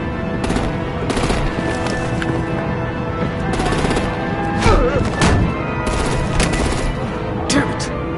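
Artillery and gunfire in a Batman video game: rapid bursts of shots and heavy thumps overlap continuously under a busy mix with voices, loud and dense throughout.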